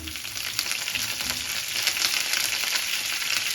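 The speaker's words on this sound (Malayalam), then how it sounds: "കുറച്ച് കറിവേപ്പില ഇട്ട് കൊടുക്കാം" Curry leaves and dried red chillies sizzle in oil with fried onions for a Kerala tapioca dish, making a continuous close frying hiss with fine crackling throughout and no voice over it.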